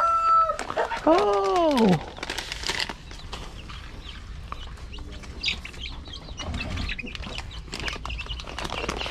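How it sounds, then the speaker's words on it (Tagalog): Late-hatched chicks and grown chickens on a farm, loud rising-and-falling clucks and calls at the start, then scattered softer peeps, scratching and rustling at middling distance; a voice exclaims briefly. "Ayan na yung mga sisiw na nahuling na pisa."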